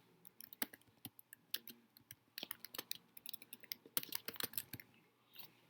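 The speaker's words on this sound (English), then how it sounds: "I'm going to type something in." Rapid, irregular clicking of keys on a computer keyboard as someone types into a document, with bursts of closely spaced keystrokes and short pauses, close and fairly quiet.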